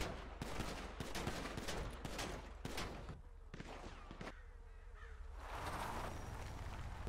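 Bursts of gunfire strike a car in a GTA role-play game, sharp cracks repeating in quick irregular volleys, with a steady engine hum running beneath and a short lull near the middle.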